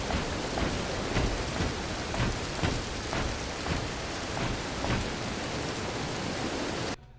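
A heavy rainstorm in the video game Dead Island Riptide: steady, dense rain hiss with soft rhythmic rumbles of thunder underneath, continuing loudly before cutting off abruptly at the end.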